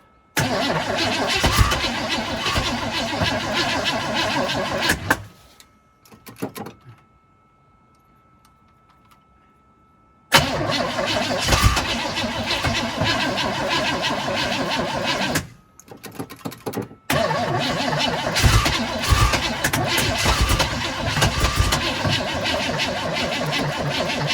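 A 1997 Chevrolet Blazer engine, long left sitting and fed fuel by squirting, cranks and runs loud and rough, cutting out twice into brief silence before restarting and running on steadily.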